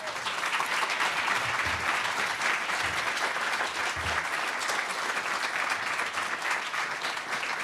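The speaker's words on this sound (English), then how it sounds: "another round of applause for Eric, please" A lecture audience applauds at the close of a public talk on the Indigenous landscape of New York City, sustained even clapping that holds steady for several seconds.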